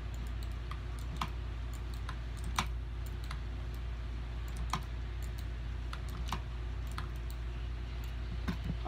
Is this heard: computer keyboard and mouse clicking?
yes